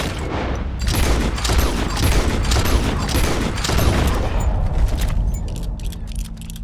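Rapid gunfire rings out in the video game Red Dead Redemption 2, a dense volley of sharp shots for several seconds that thins toward the end, loud and close.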